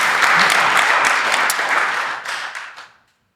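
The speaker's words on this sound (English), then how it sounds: "round of applause" A live podcast audience applauds steadily, a dense wash of clapping that holds for nearly three seconds, then thins and fades to silence.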